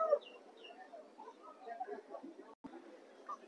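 Hens at a country chicken market in Vijayawada give soft, scattered clucks that sit low in the mix under a voice, with faint background bustle around them.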